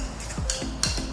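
A spoon mixes guacamole in a bowl, giving a few soft rhythmic scraping strokes with light wet clicks against the bowl, close and clear with no talk.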